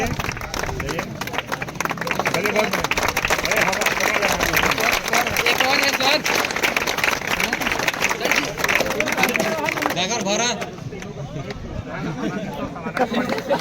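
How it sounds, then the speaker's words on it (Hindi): A crowd claps and cheers to welcome Indian Army Agniveer trainees home from physical training, with sustained loud applause and lively chatter and calls throughout before the clapping thins near the end. "बहुत बढ़िया बजाते रहे ताली भाई।"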